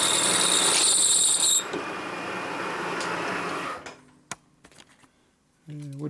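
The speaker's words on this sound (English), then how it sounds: "it didn't cut squat hardly because it was chattering so much" Cutting bit chattering while machining a 1958–1960 Harley-Davidson panhead cylinder head: a loud, shrill squealing whine at first, then rough grinding noise that fades into near quiet with a few faint clicks and a low hum at the end.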